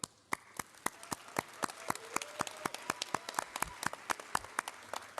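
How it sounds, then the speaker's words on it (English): Scattered applause from a graduation ceremony audience, steady individual claps in a loose, uneven rhythm, moderately distant in a large room, without cheering voices. "Let's give ourselves a big cheer because we truly earned it."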